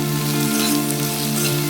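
Onions and curry leaves sizzle steadily as they are sautéed in a pan for a country chicken dish, a close, continuous frying crackle with faint background hum and no talking.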